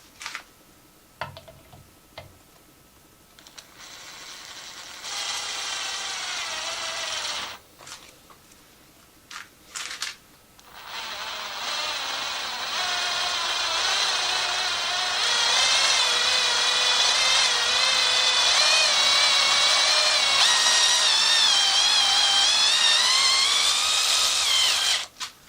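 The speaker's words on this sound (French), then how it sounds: "Tu peux directement venir fixer ton outil sur une perceuse à main." A hand drill drives a thread tap, whirring in a couple of short bursts before settling into a long, loud, steady run with pitch wobbling as the tap cuts, close up and with no talk.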